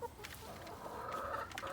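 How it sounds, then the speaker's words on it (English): Backyard chickens cluck and murmur softly at feeding time as they gather for a treat of grubs, a low continuous stream of overlapping clucks with no talking. "They're pretty cool chickens."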